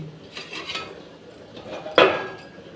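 A metal lid clanks down onto a cooking pot of potato and poppy-seed curry, a single sharp clatter near the end after softer scraping and utensil taps against the pan.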